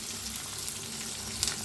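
Chopped onion and green chili sizzle in hot oil in a kadhai set on a gas stove for tempering, a steady, fairly quiet crackling hiss with small pops and no talking.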